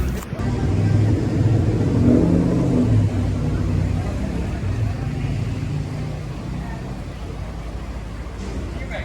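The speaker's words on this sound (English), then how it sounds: "one of the C4 buses was just passing us by" A C4 city bus rumbles past beneath the main highway bridge at Cuale Avenue Libramento, a loud low engine drone that swells early and stays steady, with people speaking over it.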